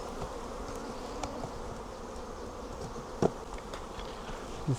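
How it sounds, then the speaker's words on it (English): Honey bees from a swarm buzz in a dense, steady drone as they are knocked into a hive, with a couple of sharp knocks standing out near the end. "I'm gonna knock the bees in."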